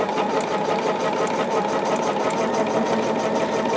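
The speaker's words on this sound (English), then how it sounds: "And we're going to sew all the way around." A sewing machine stitches fabric for a petal gift bag, a fast steady mechanical whir and needle chatter running close and continuous throughout with no talking.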